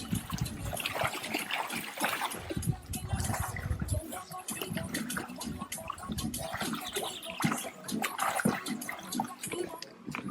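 Children jumping into an outdoor swimming pool, with repeated splashes and churning water breaking up a busy scene, mixed with nearby voices talking and calling out.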